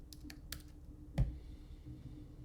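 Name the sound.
typing login on a computer keyboard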